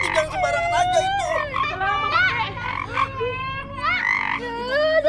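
A frog croaks loudly and repeatedly in bursts of warbling, rasping calls, mixed with voices close by.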